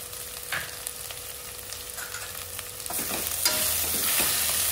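Fresh ginger and turmeric frying in a hot pan while making kichidi, a steady soft sizzle with light stirring scrapes, growing louder and brighter toward the end, no voices.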